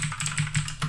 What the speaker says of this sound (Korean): 키보드에서 Shift F2 키를 눌러 보도록 하겠습니다.